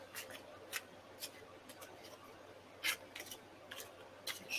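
Cards being shuffled in quick riffling bursts, close and fairly quiet, with short pauses between the shuffles.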